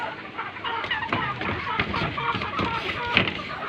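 Rhode Island chickens in a breeding pen, two roosters and two hens, clucking and crowing in a busy cluster of bird calls close by, with a person talking over them.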